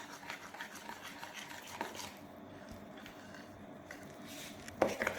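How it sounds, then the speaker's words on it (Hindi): Dry ingredients being folded into whole wheat banana walnut cake batter, producing a soft, continuous rubbing and scraping in a bowl, quiet and close, without speech. "ये मैं मिक्स कर रही हूँ"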